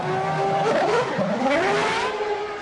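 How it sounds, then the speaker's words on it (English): A 1998-season Formula 1 race car accelerates loudly out of the pit lane, its high-pitched engine rising and falling in pitch as it passes close by, alone without voices. "Michael exits the pits in first place with 5 seconds in hand over the chasing David Coulthard."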